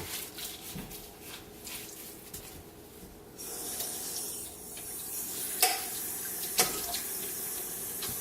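Tap water runs steadily into a sink while a fork is scrubbed beneath the stream, the hiss rising when the flow strengthens partway through, with a couple of sharp metallic clinks near the end.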